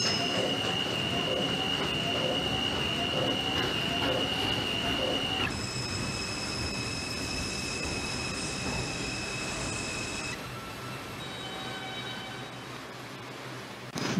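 A simulated R142 subway train in the Hmmsim 2 game runs along the track with a constant rolling rumble, overlaid by high, sustained wheel-squeal tones that shift pitch partway through and then fade.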